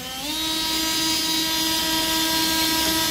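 A battery power drill whines steadily as it bores through a plastic coral grow-out tub for a bulkhead fitting, a high sustained drone that spins up briefly then holds close and loud.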